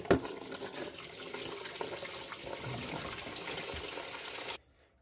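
Water runs and gurgles steadily out of a sink as it drains, a close, continuous rushing that cuts off abruptly into near silence at the end.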